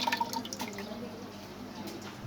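Water and soaked masoor lentils tip into a pressure cooker, splashing and dripping with a burst of pouring at the start that settles into lighter trickles, close by.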